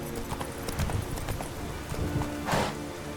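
Horse hooves clip-clopping at a steady trot in The Witcher 3: Wild Hunt, a rhythmic run of muffled thuds under ambient game sound with a brief louder burst near the end.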